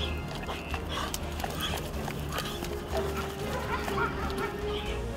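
An RCMP police K9 dog panting and whimpering at close range, a continuous busy stretch of breathing and small whines with some faint background voices and movement.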